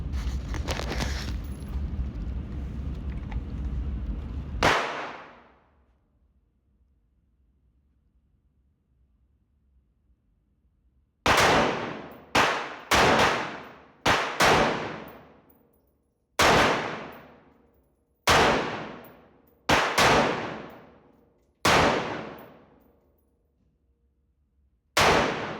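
Handgun shots ring out at a gun range, a sharp series of about ten loud, separate reports at irregular intervals, each with a short decaying tail, following a few seconds of steady background rumble.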